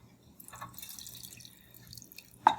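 Elderberry syrup mixture poured through a fine mesh strainer into a measuring cup makes faint, close liquid trickles and drips over a quiet background, ending in one sharper splash.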